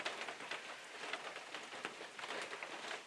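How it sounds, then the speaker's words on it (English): Steady rain patters on a surface in the Alaskan wilderness, a soft continuous hiss of drops with slight variations in intensity, fairly faint and with no voices. "hear the sound of the rain"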